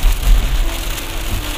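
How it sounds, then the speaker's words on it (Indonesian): Steady rain drums on a car while driving into the town of Wonogiri on the Solo–Wonogiri–Ponorogo route in Indonesia, a dense, continuous patter with low road rumble beneath, no voices. "memasuki kota Wonogiri, keadaan masih diguyur hujan."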